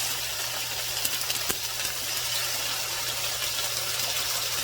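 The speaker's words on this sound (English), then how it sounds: "So the second I get this pork chop down, it's going to sizzle." A pork chop sizzles in hot oil in a pot, a steady broadband frying hiss that stays loud and even throughout with no talking.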